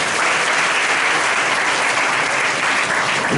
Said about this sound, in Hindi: यीशु मसीह के लिए जोरदार ताली बजाओ